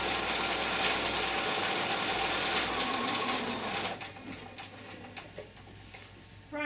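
A sewing machine stitches a small adult fabric face mask in a steady, close mechanical whir that runs continuously, then slows and breaks into a few separate stitches near the end.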